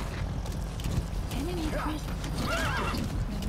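A horse in the video game Metal Gear Solid V whinnies in rising and falling calls over a steady clip-clop of hooves, with someone speaking over it.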